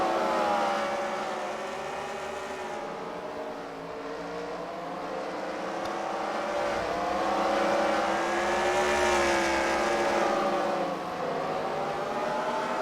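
Race cars at a CWRL fight night event at The Freedom Factory roar past on the oval, engines rising and falling in a continuous loud drone as several cars work through traffic.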